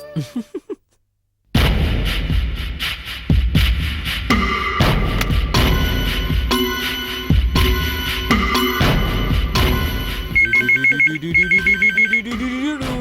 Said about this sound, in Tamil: போன் எடுப்பா